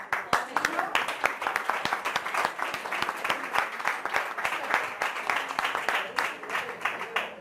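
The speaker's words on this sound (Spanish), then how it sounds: "un aplauso por eso" A live audience applauds steadily for several seconds at a talk in Lugo, dense overlapping claps forming a continuous wash of sound with no break.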